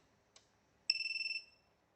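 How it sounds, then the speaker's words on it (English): A NewbeeDrone Infinity 255 AIO flight controller board beeps on power-up: a tiny click, then a rapid series of about ten high electronic beeps lasting half a second, close and alone in a quiet room. "Looks like it beeps."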